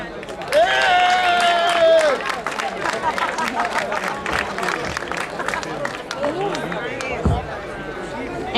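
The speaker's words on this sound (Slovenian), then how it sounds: "dajmo en bučen aplavz" An audience at a live music event in Litija applauds and cheers, a dense burst of clapping with shouts and crowd noise that continues under a host's voice.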